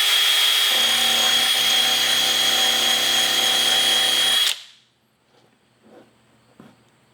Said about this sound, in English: what you guys just saw was my drill on the fastest setting